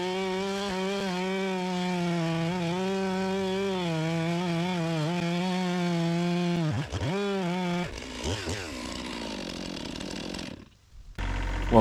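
A chainsaw runs at a steady high drone while cutting into a massive oak trunk, its harmonic whine holding for several seconds before the engine dips and bogs. It revs unevenly near the end, then cuts out briefly.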